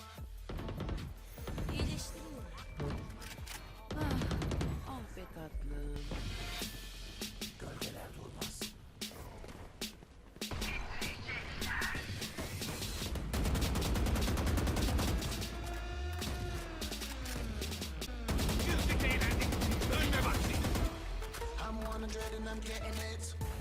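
Gunfire in the Valorant video game, with rapid bursts and sustained automatic fire in dense volleys through a chaotic firefight, along with other game effects and intermittent voices.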